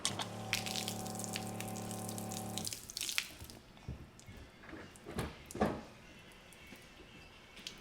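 A camper's water pump hums steadily as antifreeze-laden water is pushed out of the lines during winterizing, then the pump cuts off and water gushes, splashes and drips irregularly nearby.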